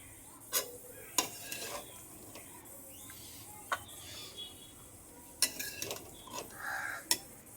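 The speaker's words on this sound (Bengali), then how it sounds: "এবারে সবজিগুলো ঢেলে নিচ্ছি অন্য আর এক পাত্রে" Cooked mixed vegetables are tipped from one pot into another, with scattered metallic clanks and scrapes of utensils against the vessels over a quiet background, a few sharp knocks standing out.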